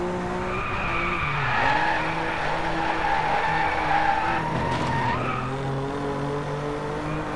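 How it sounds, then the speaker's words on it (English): BMW M4 drifting in the DRIVECLUB racing game, with a revving engine and sustained tire squeal whose pitch rises and falls over several seconds, loud and continuous with no voices. "That was a good drift"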